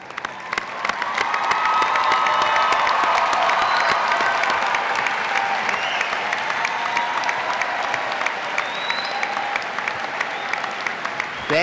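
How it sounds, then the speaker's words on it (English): A college graduation audience breaks into loud, sustained applause with some cheering, swelling after a second and continuing steadily before individual claps stand out near the end. "give those that supported you a big,"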